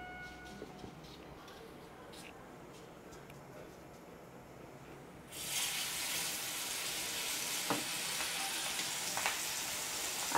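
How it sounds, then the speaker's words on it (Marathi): Semolina-coated fish hits hot oil on a heated tawa, and after a few quiet seconds a steady, close sizzle of frying begins and carries on without a break. "आता आपण मच्छीला रवा लावून फ्राय करून घेऊया."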